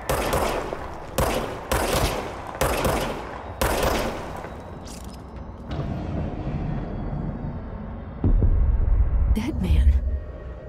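Gunfire in the video game Control: rapid bursts of loud shots in quick succession early on, then a low rumble, with a voice talking over it.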